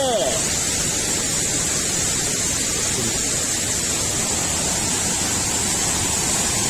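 Tad Sae waterfall near Luang Prabang, in heavy flow, gives a dense, unbroken roaring rush of splashing water, loud and close, with a voice briefly audible at the start.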